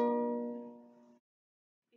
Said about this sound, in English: This is our ukulele. It's like a little guitar, and it sounds like this.